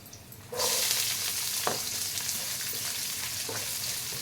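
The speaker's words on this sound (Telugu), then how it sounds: "ఆనియన్ మంచిగా ఫ్రై అవ్వాలి." Onions hit hot oil in a pan for onion rice and break into a loud, steady sizzle that holds throughout, with a couple of faint scrapes or stirs mixed in. No one talks.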